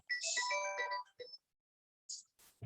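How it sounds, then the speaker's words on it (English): A phone ringtone plays a loud melodic ring for about a second, followed by a short repeat, then silence and a couple of brief clicks. "Sorry about that phone call."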